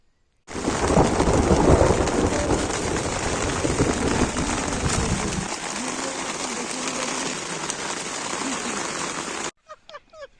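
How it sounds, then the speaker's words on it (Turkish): Heavy rain pours hard in a wilderness survival camp, a dense roar with rolling thunder that eases to a steady downpour, then cuts off abruptly before a few brief sounds. "Yağmurumuz geliyor."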